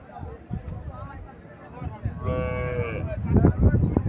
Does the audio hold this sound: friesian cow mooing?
yes